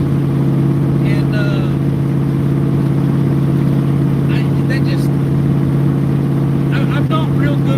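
A truck cruises at 70 mph and about 2,000 RPM, its engine giving a loud, steady low drone with a strong hum from inside the cab, while brief higher sounds and possible talk come and go over it.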